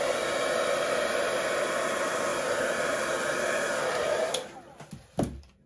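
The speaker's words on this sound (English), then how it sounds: "I'm going to do one more blow with the hairdryer." A hairdryer blows across an acrylic Dutch pour with metallic base colour, giving a loud, steady rushing roar for about four seconds. It then cuts off, leaving a few soft knocks and handling sounds.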